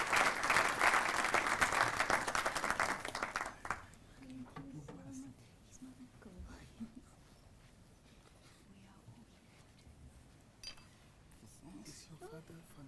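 Loud, dense applause from an audience at a university awards ceremony greets the recipient of the 2019 Teacher Excellence Award, then dies away after a few seconds into quieter room sounds and scattered talk.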